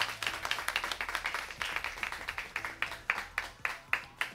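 A small audience at a live show at Tokyo Tower claps for a band, a modest, fairly rhythmic patter of hands with some talk at a low level.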